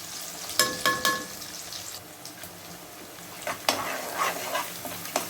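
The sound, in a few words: onions frying and being stirred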